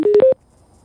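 Cardo Packtalk motorcycle intercom powering on with a quick series of three to four rising electronic beeps, loud and close, lasting about a third of a second before silence.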